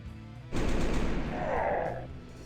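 A multi-laser fires in the 1997 strategy game Warhammer 40,000 Final Liberation, a sudden loud burst of rapid crackling shots that rings on and fades over about two seconds.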